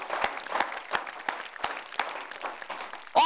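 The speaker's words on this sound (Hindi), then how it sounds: "जरा इनके लिए तालियां वालियां बजाइए" A studio audience claps for a guest on a Hindi television show, moderate, somewhat scattered applause with a few louder individual claps standing out, ending in a brief sharp noise.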